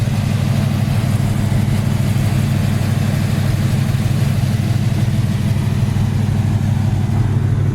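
A 1974 Plymouth Duster engine running on fast idle, with a loud, steady, low mechanical drone and an even, unbroken rumble that does not change in pitch.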